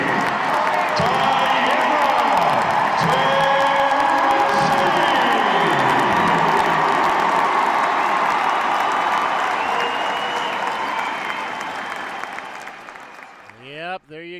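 Crowd noise after a basketball game: a dense, steady roar of cheering, applause and whoops fills the arena for about twelve seconds, then fades away near the end.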